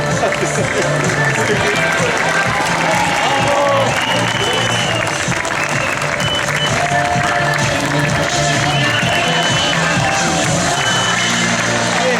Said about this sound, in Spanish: Así que hay aplausos para rato